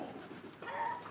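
An Egyptian swift pigeon, a young dark bird, gives a soft, low coo close by, one short murmuring call over quiet room tone.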